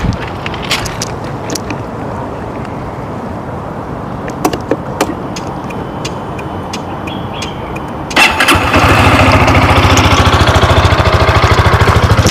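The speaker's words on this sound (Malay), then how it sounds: "Okey, so ini bunyi idling dia." A SYM VFE 185i supermoped idles close by with a low, steady putter, punctuated by clicks and taps, then the engine note thickens and grows louder as it settles into a stronger continuous run.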